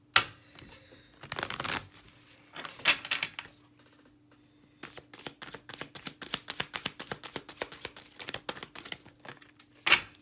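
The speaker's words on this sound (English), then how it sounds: "And pull some cards like this." Tarot cards shuffled and pulled from a deck, giving soft papery riffles and crisp flicks that build into a quick, steady run of close card snaps, with brief pauses and no talking.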